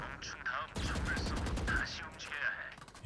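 Rapid gunfire bursts from the Valorant shooter game crackle steadily across the whole stretch, close and loud, while a person talks over the shooting.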